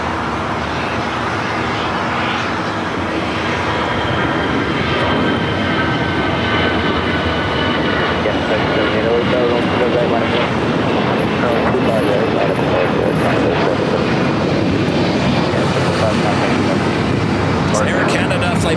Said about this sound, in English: Next takeoff is Air Canada 555 taking off to Vancouver on the A320.